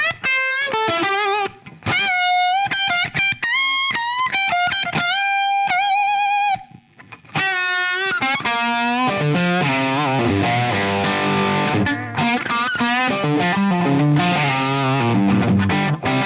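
An electric guitar plays through a 1976 Marshall Super Bass amp with mids cranked and bass pulled back, giving heavily distorted, sustained riffs and chords that come loud and close.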